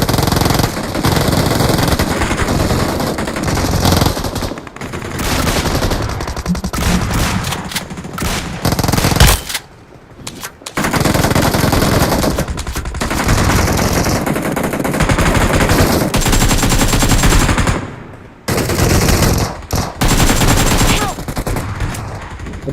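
Heavy automatic gunfire in the mobile battle royale BGMI, loud sustained bursts of rapid shots close up, with brief pauses between volleys and occasional single cracks.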